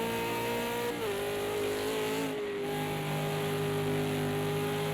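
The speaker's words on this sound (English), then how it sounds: "you heard Dredd there just playing with his throttle over the hump" A V8 Supercar at the Bathurst 1000 roars loudly and steadily as the driver blips the throttle over a hump, the engine note dipping and climbing again with no talk over it.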